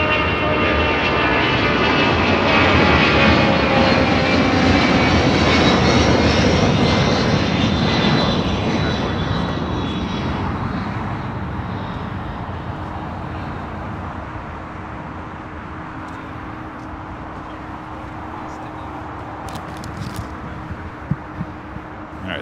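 A jet airliner takes off from runway 25 right at LAX, its loud engine roar close at first, then fading steadily into a distant rumble as it climbs away.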